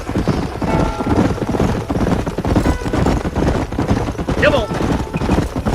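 Horse hooves clip-clopping in the Red Dead Redemption video game, a steady mounted group trotting along under continuous talk and background gunfire-like noise, with a horse's whinny near the end.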